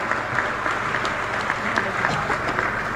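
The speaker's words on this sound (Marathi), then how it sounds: "जोरदार टाळ्या वाजवून आपण कृतज्ञता व्यक्त करूया" An audience at a public housing handover event in Solapur applauds the chief minister, with loud, sustained, dense clapping from a large crowd.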